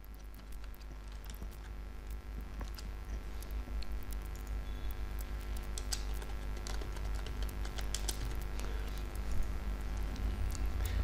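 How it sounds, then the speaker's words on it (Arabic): Faint keyboard typing as an email address and password are entered, scattered light clicks spread across a steady low hum and hiss, with no speech. "هنكتب البريد الإلكتروني والرقم السري اللي احنا كتبناه وهنسجل دخول"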